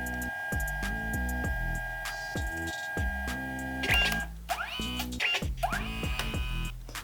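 A home printer printing a poster photo, its motor whirring steadily with rhythmic mechanical clicks and stepping pulses, then rising whines as the paper feeds through, close and fairly quiet with no talk.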